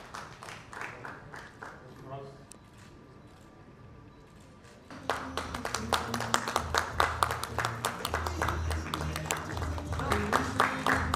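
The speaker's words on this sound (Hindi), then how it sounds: "जोरदार तालियां लेडीज एंड जेंटलमैन" After a few seconds of quieter sound, loud applause breaks out from a crowd at a song launch event, dense sharp clapping that carries on strongly to the end.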